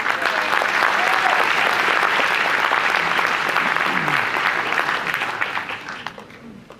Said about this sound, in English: That's an applause for all of you and for all those who've been organizing it over these years